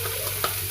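Spiced food frying in a covered pan gives a steady, even sizzle close by, with one faint tap partway through.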